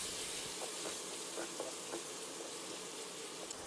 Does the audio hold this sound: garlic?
yes